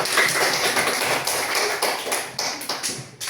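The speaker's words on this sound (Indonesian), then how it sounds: "Tepuk tangan dulu untuk kita semua" A primary-school science class claps together, a busy continuous patter of many hands with sharper individual slaps, close and fairly loud, fading toward the end.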